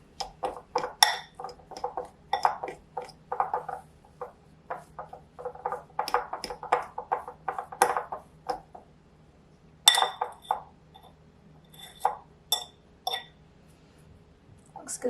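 A fork mixes cookie dough in a bowl, tapping and clinking against the sides in quick irregular bursts, close up and with no talking.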